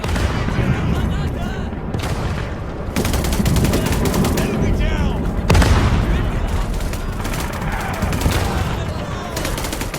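Dense World War I battlefield gunfire from the mobile shooter game Weltkrieg 1 Firestorm: continuous rattling machine-gun bursts and rifle shots layered with booming impacts, loud and busy throughout with no pauses.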